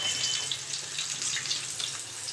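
Tap water running steadily into a kitchen sink while hands are washed, a close continuous splashing hiss with no voices over it.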